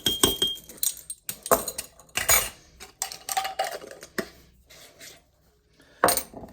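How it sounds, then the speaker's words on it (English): A spoon clinks and scrapes against a bowl while mixing ground turmeric into a homemade seasoning blend, giving irregular sharp metallic taps and stirring scrapes with short pauses between them. "We're gonna add a half a teaspoon, get it mixed up here, of ground turmeric."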